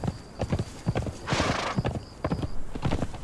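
Horse galloping in the video game Conan Exiles, its hooves beating a quick, rhythmic clip-clop up close, with a breathy snort or whinny bursting out midway through the run.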